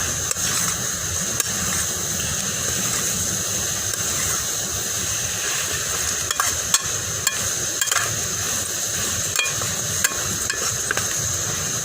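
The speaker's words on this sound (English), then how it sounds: "it's just like basic stir frying" Kale stir frying in a pan for a beef liver curry gives a steady sizzle and hiss, with occasional sharp clanks of a utensil against the pan, close and continuous with no talk.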